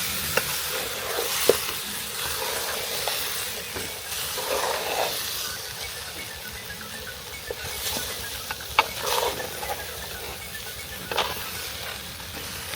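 Rice with mung and masoor dal being stirred and fried in a pot for khichuri: steady sizzling hiss with scattered scraping and clinking stir strokes throughout, no talking.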